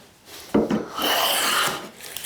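A hand plane takes a pass along a wooden board edge, producing one short, rasping shaving stroke, close and fairly loud, with no speech.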